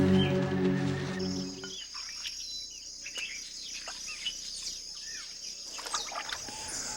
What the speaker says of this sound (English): A female jacana, or lily trotter.